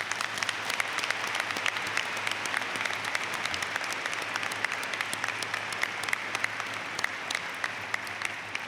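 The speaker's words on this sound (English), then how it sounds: "please join me in giving another round of applause for Mary Boyce" Sustained audience applause at a graduate school commencement ceremony, a dense steady patter of many hands clapping from a large crowd without letting up.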